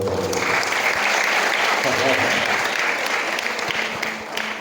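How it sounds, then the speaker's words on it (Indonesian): Audience applause at a pesantren parenting and motivation event in Cirebon, a thick continuous roll of many hands clapping at even volume from start to finish, with some voices mixed underneath. "Tepuk tangan dong Bapak"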